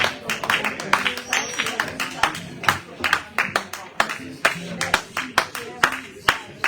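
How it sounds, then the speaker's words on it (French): A church congregation in Paris claps together in steady rhythmic applause acclaiming the Lord, sharp claps repeating throughout over a busy room. "Est-ce que tu peux acclamer le Seigneur?"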